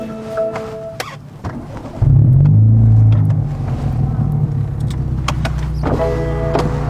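A car with someone getting in: scattered thumps and rustles, then a loud low engine rumble that swells and stays steady in the cabin, with a voice talking over it.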